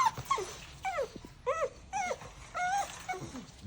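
Young puppies whimper and growl in short, high, rising yips and whines broken by brief low grumbles, several calls in quick succession close to the mic, with no talk.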